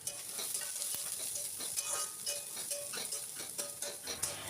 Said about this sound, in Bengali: এবার পেঁয়াজটাকেও একটু লাল লাল করে ভেজে নেব।